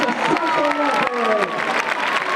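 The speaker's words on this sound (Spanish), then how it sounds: "un fuerte aplauso" Crowd applause for a young recortador at a bull-leaping contest, a dense wash of clapping and cheering under a loud announcer's voice.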